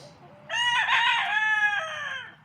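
A loud rooster crows once nearby, a long, strident cock-a-doodle-doo held for about two seconds.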